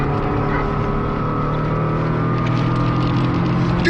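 A motorcycle engine drones loud and close in one steady, unbroken run of rough, even tone, with no voices over it.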